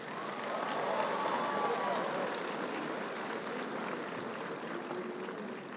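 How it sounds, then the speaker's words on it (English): An audience at a 2023 high school graduation ceremony applauds the graduates in a broad, even wash of clapping that holds steady, slightly distant and fairly soft, with a faint murmur of crowd noise. "Let's give these graduates another round of applause."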